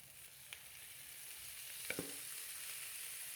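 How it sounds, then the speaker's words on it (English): Minced meat frying with softened onions in a pan, a faint, steady sizzle with a few soft clicks and scrapes of stirring. "Now I'm just going to work this through for another 3 minutes, 4 minutes until the mincemeat's browned off."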